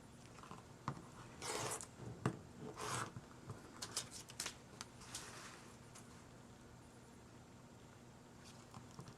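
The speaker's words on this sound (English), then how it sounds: "I cut almost everything with my ruler and cutter." A craft cutter drawn along a ruler slices paper, giving a few short, raspy scraping strokes and small taps. The sounds are close but quiet, followed by near silence.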